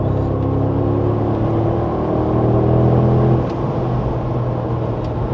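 Mercedes G63 AMG accelerating hard, with a loud, steady engine roar and low rumble heard from inside the vehicle that holds strong and then eases slightly toward the end.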